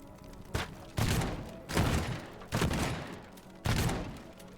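Four heavy explosive blasts in the video game Teardown, each a sharp boom trailing into rumbling decay, spaced about a second apart.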